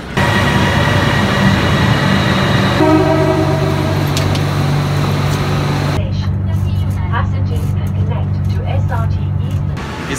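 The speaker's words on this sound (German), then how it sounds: "Da und ich warten auf die Metro, denn wir sind auf dem Weg nach Raja Prarop" A Bangkok metro train pulls into the station with a loud, sustained rumble and a shifting electric motor whine that changes pitch partway through, drowning out all other sound.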